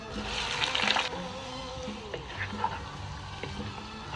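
Shrimp and onions sizzling in hot oil in a pan for shrimp kabsa, a steady broadband frying hiss with small pops and stirring clinks, loud at first and then settling lower throughout.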